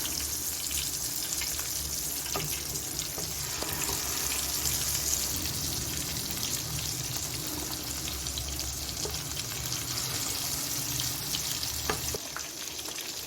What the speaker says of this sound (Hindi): मीडियम फ्लेम पे हम इसको फ्राई करेंगे